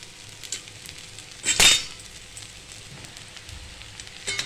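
Kurdai bhaji is stir-fried with onion, garlic and chilli in a pan: a low steady sizzle that flares into a loud burst midway, with soft utensil scrapes.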